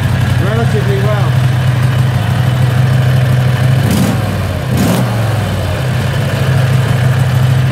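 A Predator 670cc engine with an electric fuel pump and return line to the tank idles steadily. The low drone is loud and close, and a couple of brief knocks break through it.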